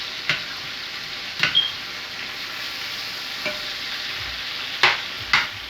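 Food tossed into a hot frying pan with all-purpose spices sizzles softly under a steady hiss, broken by several sharp stirring scrapes and clatters spread across a few seconds.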